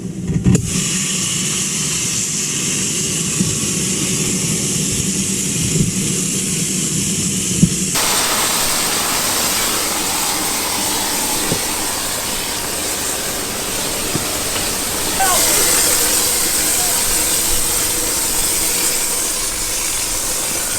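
Inside the cockpit of a Dodge Viper ACR-X, a fire suppression system sends out a long, steady hissing rush that shifts in character partway through and carries on for about twenty seconds without talk.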